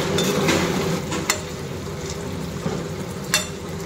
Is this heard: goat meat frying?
yes